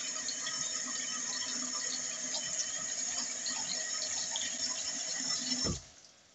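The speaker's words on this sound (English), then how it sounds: "You can see that the water is just gathering." Water runs steadily into a clogged sink drain and pools there, a loud, continuous splashing rush that cuts off abruptly near the end.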